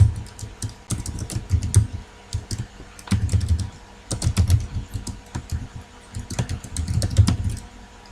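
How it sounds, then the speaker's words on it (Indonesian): Code being typed on a computer keyboard in bursts of rapid, close key clicks, pausing briefly between runs of keystrokes, with no voices. "saya ketikkan dulu kodenya"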